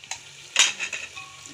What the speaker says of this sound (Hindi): और इसे अच्छे से भूनते रहेंगे।